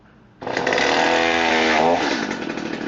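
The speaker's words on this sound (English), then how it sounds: "the chainsaw is now running" A Stihl chainsaw engine suddenly catches and roars to life, running loud and steady with a buzzing drone that eases back slightly to idle near the end.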